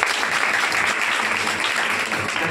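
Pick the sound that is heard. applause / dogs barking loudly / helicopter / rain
applause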